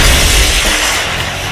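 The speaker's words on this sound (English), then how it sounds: "You break the glass" A heavy glass panel shatters in a loud, dense burst of crashing noise that spreads into a sustained, bright crackling wash and slowly fades.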